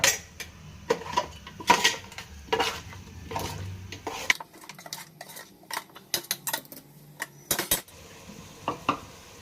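A goat and sheep leg soup with masala is stirred in a pot: repeated metal-spoon scrapes and sharp clanks against the pot come in irregular bursts over a faint bubbling, with no talking.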